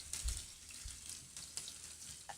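Food frying in an oil-slicked pan, a faint, steady hiss of sizzling with soft scattered crackles and a few light clatters, no voices.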